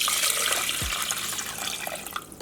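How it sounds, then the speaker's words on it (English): Coconut water pours through a strainer lined with cheesecloth, a close, steady splashing trickle like a running tap that carries on for a couple of seconds, with no one speaking. "I'm going to pour the coconut water in there and strain it"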